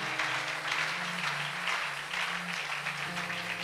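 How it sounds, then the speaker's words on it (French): A church congregation claps during a seminar service, a thick, sustained wash of applause filling the room, with a low musical tone or hum underneath and no clear voices. "Acclamons pour le Seigneur."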